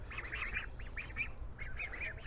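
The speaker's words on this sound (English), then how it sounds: "You hear all their cheeping" Young birds cheeping in a brooder, a quick run of short bright peeping calls in bursts, near and fairly faint over a low steady hum, with no talking.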